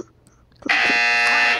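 A loud, sustained electronic buzzer blares for about a second after a brief quiet stretch, steady and harsh with a bright, droning tone.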